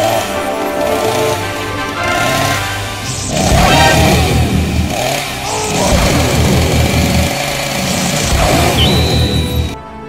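A chainsaw engine revs in an animated cartoon, giving loud rough buzzing bursts that swell and drop in a rhythmic pattern over about ten seconds, with crashes and whooshes mixed in.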